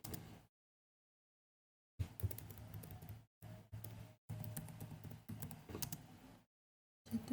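Bursts of keyboard typing, quick clattering keystrokes with brief pauses, entering network switch configuration commands. Close and fairly quiet, with no voices.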